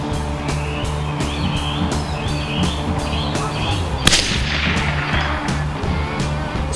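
A single sharp CZ 457 Varmint .22 LR rifle shot cracks out midway through steady engine-like droning and rhythmic ticking background noise.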